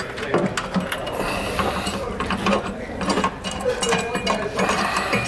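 Ratchet clicking as it tightens black bolts on a nerf bar bracket of a 2021 Ram 2500 pickup, a fast continuous run of close metallic pawl clicks with uneven bursts, no talking.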